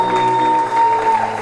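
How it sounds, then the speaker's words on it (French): A church congregation at a prophetic worship service applauds strongly and steadily, the crowd clapping loud and continuous over sustained musical tones. "tous comme une seule personne, on applaudit fortement pour la gloire de Dieu."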